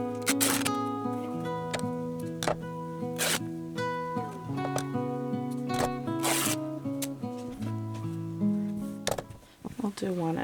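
Edges are cut or torn away from handmade art-business planner pages in a series of crisp, zipper-like ripping bursts, heard over steady background music.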